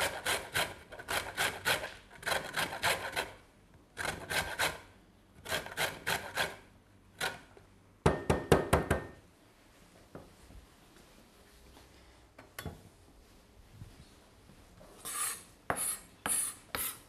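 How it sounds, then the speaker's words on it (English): A lemon is rubbed against a grater for zest, giving bursts of quick scraping strokes in repeated clusters, close and fairly loud, separated by short pauses and a few softer scrapes near the end. "We're also going to use the zest of one of our lemons, give it a bit of extra flavour."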